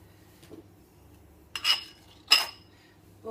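A spatula scrapes cake lace mixture in two short, harsh scrapes with a squeaky edge, close and clear against a quiet background.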